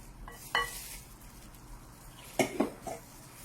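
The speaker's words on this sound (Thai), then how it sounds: "ผสมอย่างเร็วเลยค่ะ" A spoon or spatula scrapes and knocks against a mixing bowl while sifted flour with salt and baking powder is quickly folded into banana chiffon batter, giving a few faint clinks and brief scraping strokes.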